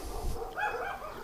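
A puppy dog making a short bark or yip, a single brief tonal call over low background rumble, fairly close and moderately loud.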